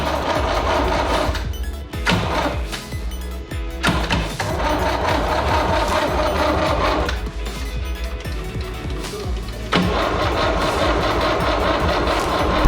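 Old Cooper engine being cold started after ten years of disuse: a loud, close, rough mechanical clatter in long bursts broken by brief pauses, with no voices.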